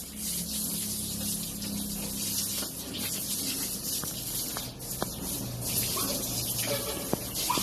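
Water is poured over a pig to bathe it, a steady spraying, splashing wash that runs close and fairly loud throughout, with a few light knocks and footsteps mixed in.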